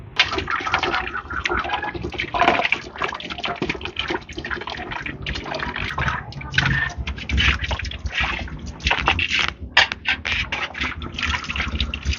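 Vegetables being washed by hand in a vessel of water for making vathal, a loud continuous sloshing and splashing up close with repeated swishes, no voices.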